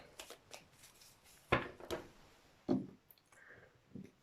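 Tarot cards are handled and drawn with soft riffling and a few sharper slaps of cards being set down, close and fairly quiet, with no speech.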